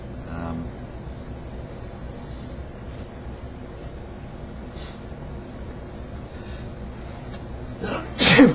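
A single loud, sharp sneeze bursts out near the end, after a long stretch of quiet room tone.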